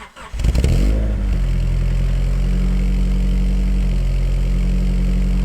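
A Honda Prelude with a 2.5-inch Pacesetter catback exhaust cranks over and fires on a cold start, then settles into a steady, loud, deep idle that holds evenly to the end.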